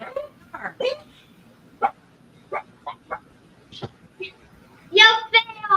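Small dogs including Chihuahuas barking at someone across the street, a scattering of short sharp yips spread through the stretch and ending in a louder cluster of barks, with quieter voices and faint background noise between them.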